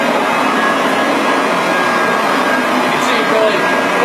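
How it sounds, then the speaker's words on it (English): A 67-pound pile lifter vacuum cleaner with a soft nylon brush runs on a rug, a loud constant roaring whir that holds steady throughout without breaks. "It's a 67-pound vacuum cleaner with a nice soft nylon brush, and it's pretty intense"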